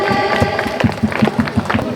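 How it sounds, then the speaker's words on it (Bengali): A crowd at a Joypurhat regional singing-contest audition breaks into loud, dense applause for a contestant, steady rapid clapping sustained throughout with a murmur of voices mixed in. "আমরা জোরে করতালি দিয়ে তাকে অভিনন্দন জানাতে চাই।"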